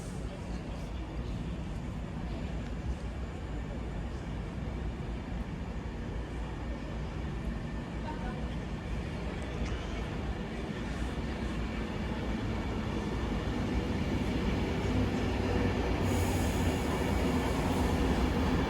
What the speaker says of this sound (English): Arriving in now is the 11:10 Avanti West Coast service to Manchester Piccadilly